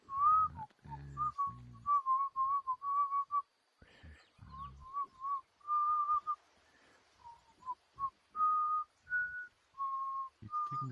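A person whistles a melody in short tuneful phrases, a run of clear notes broken by brief pauses, close to the microphone, with occasional low thumps and breaths in between.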